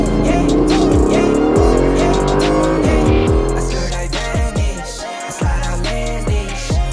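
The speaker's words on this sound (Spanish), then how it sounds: "Un Aston Martin." An Aston Martin sports car drives with a loud, continuous engine note that climbs and shifts as it accelerates, close and dominant throughout.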